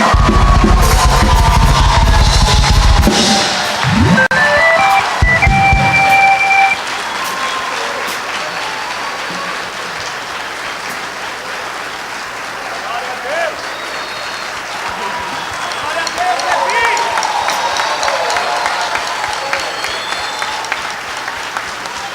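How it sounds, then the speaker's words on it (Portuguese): A church congregation at a Presbyterian Church of Brazil ordination service bursts into loud, sustained applause with some cheering; the clapping stays strong, then carries on more softly beneath a speaking voice for the rest of the stretch. "uma salva de palmas ao pastor da Igreja Presbiteriana do Brasil"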